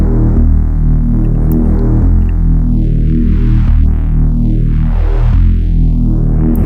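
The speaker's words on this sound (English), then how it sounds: "I can actually do a very distorted kind of movement and a lot of resonance" A loud, heavily distorted bass synth in Ableton throbs steadily while a resonant filter sweeps down and up, giving a growling, vowel-like whoosh.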